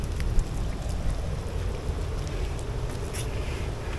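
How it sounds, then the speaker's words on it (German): Wind gusting across an open spot beside a frozen fountain in icy winter weather in the Westerwald, a steady broadband roar with buffeting rumble at the microphone, continuous and fairly close throughout. "Und der Wind hat hier ordentlich gepfiffen im Westerwald"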